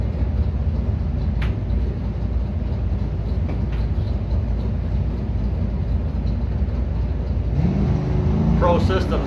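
A Chevrolet Camaro runs a bracket drag race in the Hikus Performance lane, its engine a loud, continuous roar that swells and rises toward the end, with a track announcer talking over it.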